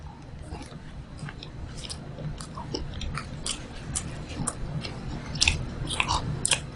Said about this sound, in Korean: 자 보자 한번 먹어보겠습니다.